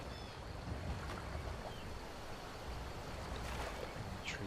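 Swimming through a river in Skyrim, with steady wash of water and wind-like noise filling the scene, a continuous moderate ambience with no talking.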